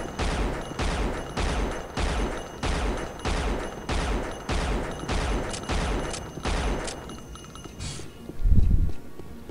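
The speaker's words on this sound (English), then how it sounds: "Oh, I love you, perfectly accurate hit-scan weapons." Hit-scan weapons fire in rapid, evenly spaced bursts during a session of the video game Unreal, a steady loud barrage of shots for about eight seconds before it stops and a deeper thud follows.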